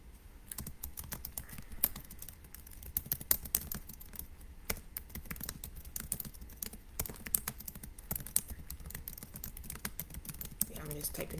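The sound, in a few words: typing on a computer keyboard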